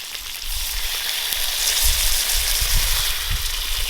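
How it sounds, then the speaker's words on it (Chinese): Water goes into a pan of browned, fatty pressed duck fried with Sichuan peppercorns and dried chili pieces, a steady close sizzle and bubbling hiss with a few low thuds. "倒上几颗花椒，再来一点干海椒段，增加辣味，然后加水了"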